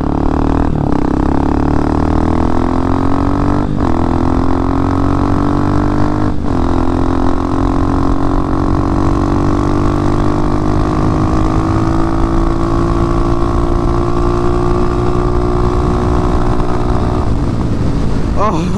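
A small engine on a car built for wheelies revs and accelerates hard through a neighborhood speed run, its droning pitch climbing steadily for almost twenty seconds, loud and close throughout.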